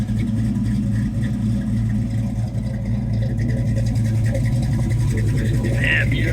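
A 1969 AMC AMX resto-mod with a high-output 6.0L LS V8 and Flowmaster exhaust idles with a steady, deep, loud rumble that holds throughout, with a voice faintly talking over it.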